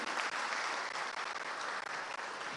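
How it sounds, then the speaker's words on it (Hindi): Sustained, dense applause from an audience welcoming a state minister at a government event distributing loans to women's self-help groups, steady and loud for the whole stretch with no talk. "जोरदार तालियों से उनका वंदन अभिनंदन करें"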